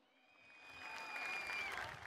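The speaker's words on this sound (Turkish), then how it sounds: "Bütün mağdur ve mazlumlara bir alkış" Applause from a political rally crowd in Gaziantep for victims and the oppressed swells from quiet to a fuller, sustained clatter of many hands, with faint whistling above it.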